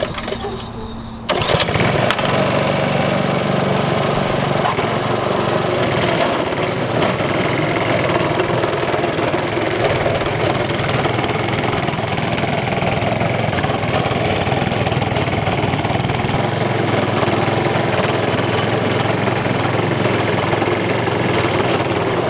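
A lawn dethatcher verticutter's engine starts after a brief quiet moment and then runs loud and steady, roaring close by as its blades dig into fescue turf and bog.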